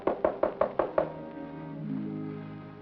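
Six firm knocks on an apartment door, an evenly spaced rapid series of close, sharp raps, followed by a low sustained musical tone as the knocking stops.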